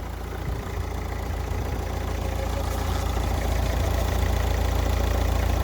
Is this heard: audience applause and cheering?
no